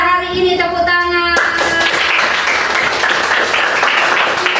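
A church congregation breaks into loud, dense applause after a musical note fades, clapping steadily and close for several seconds with little talk.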